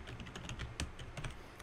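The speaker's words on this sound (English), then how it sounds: "I can also type here as well" Keys tapped on a computer keyboard while coding during a hackathon, giving a quiet run of separate clicks at an uneven pace with a few firmer strokes, close to the mic and alone with no talk.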